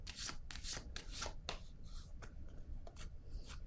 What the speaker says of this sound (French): Là, je vais déposer une carte.